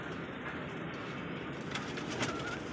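A pigeon coos softly a few times, low and throaty, close by with a quiet background.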